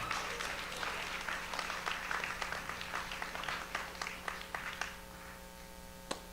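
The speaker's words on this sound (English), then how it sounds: "Give him a round of applause, everybody" A small crowd at a film project mixer applauds for a young actor and filmmaker called up to the front, a soft, fairly distant patter of clapping that thins out and ends with one last clap.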